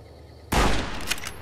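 A single loud, sharp gunshot in Fallout: New Vegas follows a quiet moment, with its blast ringing and trailing off into a brief echoing tail.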